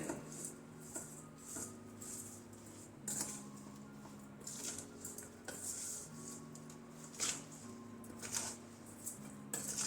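A utensil scrapes and clinks in rhythmic strokes while chili pickle is mixed with vinegar in a bowl, close and moderately loud, with no talking.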